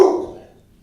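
A single short dog bark, sharp and fairly close, sounds as neighbors walk past the front door, then quickly fades to quiet.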